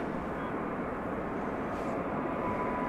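A Frontier airliner passing at DFW Airport at night: a steady broadband jet roar, distant and even, with no distinct peaks and no talk.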